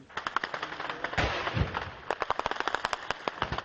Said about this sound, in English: It provokes an eruption of machine gun and anti-aircraft fire from the rebels and an immediate response from government forces